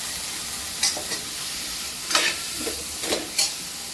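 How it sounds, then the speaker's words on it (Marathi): Potatoes tossed into a spice tempering in a pan, a steady bright frying sizzle with a few louder bursts of stirring and scraping, close and continuous. "याच्यातच आपण आता हे बटाटे टाकून घ्यायचे याला छान मिक्स करून घ्यायचं"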